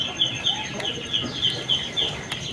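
Chickens cluck in a backyard poultry pen beside ducks and pigeons, a steady run of short, regular calls over a faint outdoor hum, with no talking.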